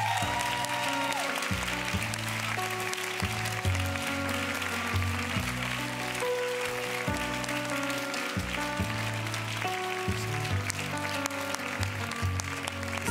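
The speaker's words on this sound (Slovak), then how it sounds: "Veľký potlesk tu v Inchebe." Studio audience applauding on a televised Let's Dance show at Incheba, a steady wash of clapping that stays constant under loud music with a pulsing beat.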